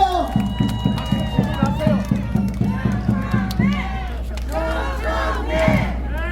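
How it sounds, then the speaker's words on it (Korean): Rally crowd at Gwangju's 5.18 Democracy Plaza cheering and shouting in rhythmic bursts, with steady chanting pulses and a loud roar swelling near the end, voices dense and close throughout. "여러분 함성의 박수로 맞아주시기 바랍니다"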